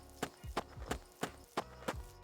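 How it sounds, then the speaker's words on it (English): Footsteps from O2's walk animation in an indie video game, played back faster to match a boosted movement speed: seven evenly spaced, hoof-like clip-clop taps in a quick steady rhythm, close and moderately loud, with nothing else heard. "I added a speed multiplier to the animation as well to ensure that O2's walk animation and footstep sound effects also sync up with the increased movement speed"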